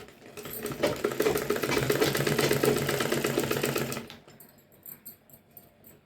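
A sewing machine stitches a folded blouse lining in a fast, rapid burst of needle chatter lasting about four seconds, then stops, leaving faint handling clicks.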